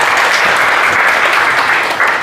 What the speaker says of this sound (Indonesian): Tepuk tangannya buat teman-teman ya.